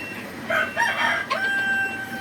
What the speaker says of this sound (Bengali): আমাদের এই মুরগিগুলা ডিম পারতেছে না